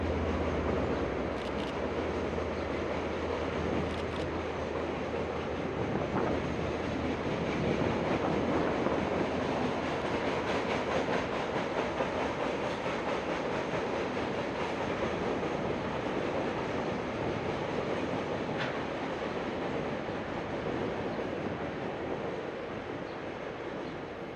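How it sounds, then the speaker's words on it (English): KiwiRail DL class locomotive DL 9008 rumbles across the Waikato River bridge hauling a Tauranga-bound train, a steady broad roar with faint rhythmic wheel clatter that fades slightly at the end. "we see DL 9008, the class leader, crossing said bridge with the Tauranga-bound train 325S"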